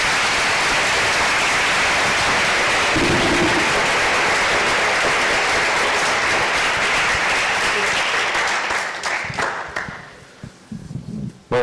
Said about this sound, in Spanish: teníamos que darle un aplauso a FESOPRAS también